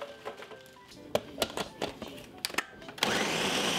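A countertop blender whirs through a breakfast smoothie at an inn, the motor roaring up steadily near the end after a series of clattering knocks and bursts as ingredients settle.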